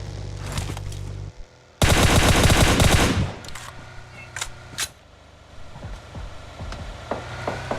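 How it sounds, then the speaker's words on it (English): Gunfire in a battle royale video game: a loud, dense, rattling burst of rapid automatic shots lasting over a second, followed by scattered single cracks and softer distant shots against a low rumble. "plenty of gunfire coming in"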